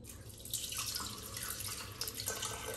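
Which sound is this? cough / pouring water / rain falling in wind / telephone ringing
pouring water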